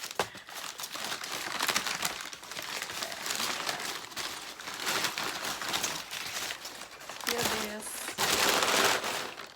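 Packing paper crinkles and crumples almost continuously while manga is unboxed from a shipping carton, busy and close, with a louder rustling burst near the end.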